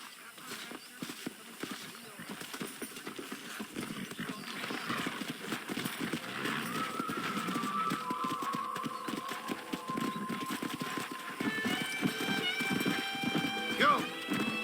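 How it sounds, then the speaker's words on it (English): Hooves clip-clop steadily under game music and ambience in Red Dead Redemption, with a horse whinnying near the end. "That ranch hand said there's a pack of wild horses nearby."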